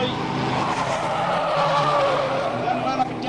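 An MGB race car spins a full 360, its tires skidding in a sustained wavering screech amid race engine noise, with a commentator talking throughout.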